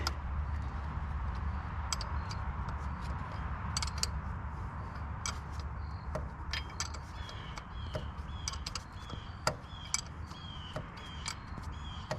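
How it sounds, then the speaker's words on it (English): Box wrench working starter motor bolts loose on a 2012 Nissan Titan, giving faint metallic ticks, clicks and creaks scattered over a low steady background hum, with no talk. "I'm just going to do it with the box wrench"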